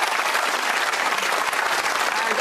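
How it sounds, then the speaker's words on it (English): A studio audience at a television game show claps in sustained, dense applause, steady and loud throughout with no gaps. "big round of applause for both of them."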